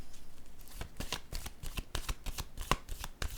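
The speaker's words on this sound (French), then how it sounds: "Je vais déposer une autre carte ici." Tarot cards handled and shuffled in quick succession, a rapid run of crisp flicks, slaps and riffles heard up close with no talking.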